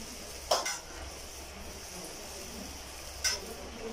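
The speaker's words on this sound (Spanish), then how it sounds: "Ya está hirviendo perfectamente" Lard heating in a pan over medium heat for frying salbutes gives a soft, steady sizzle, faint and close, with two brief clinks of a utensil against the pan.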